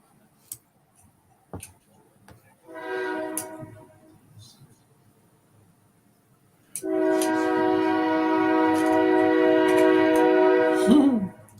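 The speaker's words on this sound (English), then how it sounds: "The train is awfully loud." A loud train horn blares twice, first a short blast and then a long sustained one that falls away at the end, over a faint rumble of passing rail cars.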